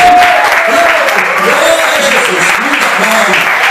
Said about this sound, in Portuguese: Então bate mais palmas para ele.